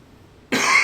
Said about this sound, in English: I got back from Boundary Waters with a cough, and it just won't go away.